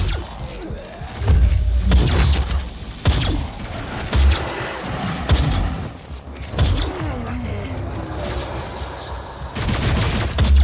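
Plasma pistol and other weapons firing in the video game Doom: loud, dense bursts of gunfire and booms, with game music and effects running throughout and no speech.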